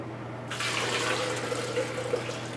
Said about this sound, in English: next we got to pour out the juice back into the blender carafe